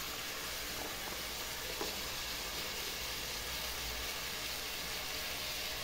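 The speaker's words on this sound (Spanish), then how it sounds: "vamos a echarle la cebollita." Chopped onion hits hot oil in a frying pan while a Peruvian dish is cooked. A steady, broad sizzle holds evenly throughout, close and continuous, with no voices.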